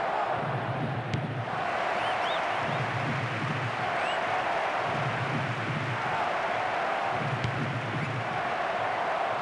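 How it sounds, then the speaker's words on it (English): Stadium crowd in the PES football game during an Arema vs Persis match, a steady loud roar of cheering and chanting with a low rhythmic swell repeating every couple of seconds, no voices over it. "the crowd certainly approved"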